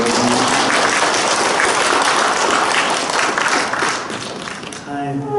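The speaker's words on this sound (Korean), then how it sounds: "주님 박수로 맞이하겠습니다" A church congregation applauds at a parish Advent lecture, dense sustained clapping from a large crowd that fills the room, thinning near the end as a voice and faint music emerge.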